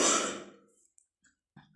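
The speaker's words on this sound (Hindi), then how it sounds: "आप लोगों को खांसी की वजह से काफ़ी डिस्टर्बेंस हुई होगी" One short, forceful cough up close, fading quickly into quiet with a few faint breaths and small mouth noises afterward.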